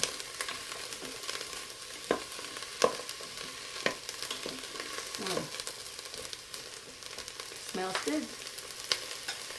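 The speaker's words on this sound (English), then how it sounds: "this has been sauteing for about 6 minutes now, and you can see that the onions are becoming rather translucent" Onions and bell peppers sauté without oil in a stainless steel pot, producing a soft, steady sizzle with intermittent stirring scrapes. A voice briefly speaks.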